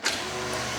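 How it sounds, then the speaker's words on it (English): Steady electric whine of a BMW E36's fuel pump priming, a quiet continuous hum heard up close inside the car with no voices over it. "Yep, fuel pump primes."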